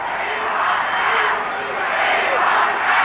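A large Brisbane rugby crowd at a 1982 Australia versus New Zealand test roars in a continuous swelling wave of massed voices, rising and falling as the chant carries through the stadium.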